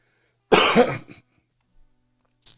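One sharp, loud cough up close, followed by silence and a faint trailing noise.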